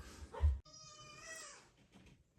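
Children upstairs imitate cats, giving a drawn-out meow-like wail between short thumps and rustles, heard faintly from another room.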